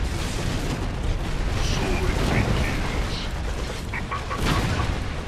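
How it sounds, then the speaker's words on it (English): Rocket launcher fire and explosions from V4 launchers in the strategy game Red Alert 3 make a dense, continuous rumble of booms and bursts that runs the whole stretch, with faint higher pops layered on top. "V4 rocket launchers."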